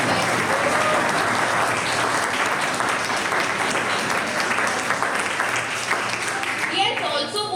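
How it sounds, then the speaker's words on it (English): Applause for a debater at a college mock parliament event, a full room clapping steadily for several seconds before it tapers off. "Please give him a round of applause, guys"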